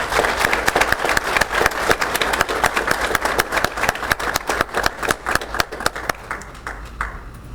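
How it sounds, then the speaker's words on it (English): An audience at a school's 50th anniversary celebration claps steadily for young students, loud and sustained, with the applause thinning out toward the end. "let's give them a round of applause"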